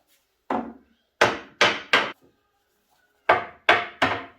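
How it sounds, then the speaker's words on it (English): A child hammers on wood, striking in two bursts of three sharp, close knocks each with short pauses between, no talk over them. "He's obsessed with hammering anything."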